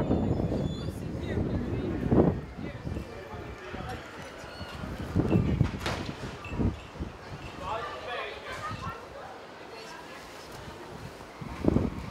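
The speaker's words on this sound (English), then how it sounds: "Wow, it's windy and cold." Gusty, cold wind buffets the microphone in rough, rumbling surges outdoors in Rotterdam, Netherlands, with a voice speaking intermittently beneath the blustery noise.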